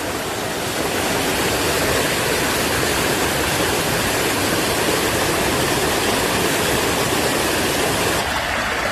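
Clear, clean water flowing steadily at a pond, a loud, unbroken rushing wash that stays close and even throughout, with no voices.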